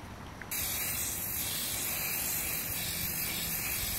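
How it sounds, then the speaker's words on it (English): Aerosol can of Kona Brown spray paint hissing steadily as clothespins are coated for a sunflower wreath, a close, continuous spray starting after a brief pause and running without talk. "Clothespin are going to go ahead and get sprayed with the Kona Brown."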